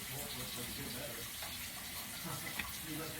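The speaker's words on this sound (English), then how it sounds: "Yeah, my water's running." Kitchen tap left running while waiting for hot water to rinse a strainer, a steady broadband rush of flowing water that holds evenly throughout.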